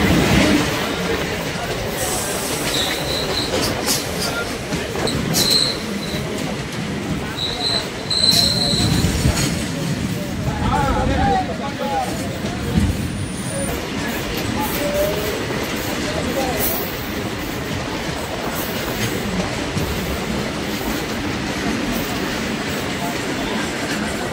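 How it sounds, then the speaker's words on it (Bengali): A goods train passes close alongside a moving memo train on the Naihati to Baharampur line, its rumbling wheels clattering and squealing continuously for the whole stretch, loud and steady under cabin noise. "সামনের দিক থেকে চলে আসছে একটি মালগাড়ি"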